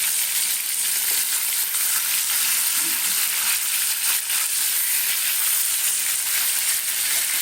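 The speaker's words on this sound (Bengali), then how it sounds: "চলো মাছটা ভাজি" Loud, steady sizzling and crackling of rohu fish frying in hot oil, continuing without a break for several seconds.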